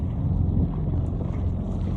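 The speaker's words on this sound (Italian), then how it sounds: "adesso siamo a motore, stiamo uscendo e tra un po' svolgiamo la randa" A sailboat motoring out of harbour under engine, heard as a constant low churning rumble mixed with wind buffeting the microphone.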